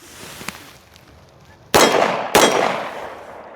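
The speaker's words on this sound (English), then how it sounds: "Let's take a couple more shots with it." Two shots from a Tisas BR9 DS pistol ring out close and loud about half a second apart, each a sharp crack with a ringing decay, after a quiet stretch with a faint click.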